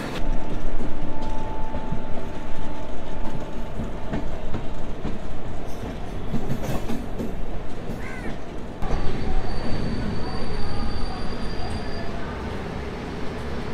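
The Tamralipta Express, running from Howrah toward Digha, rolls loudly along the rails with a continuous rumbling clatter of wheels, rhythmic clickety-clack and intermittent high wheel squeals, heard from on board.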